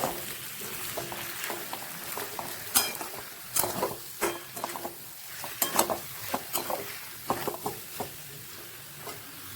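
Spatula stirring fried potatoes coated in poppy seed paste in a pan, a close run of scraping clinks and soft sizzling with irregular louder scrapes.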